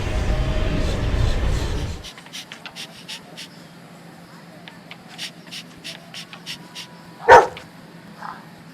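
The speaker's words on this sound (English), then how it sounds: "I'm going to have my dog Fido go piss on his car" A dog gives a few scattered, fairly faint barks and yips, with one sharper bark standing out, after a stretch of steady broadband noise at a street setting in Miami.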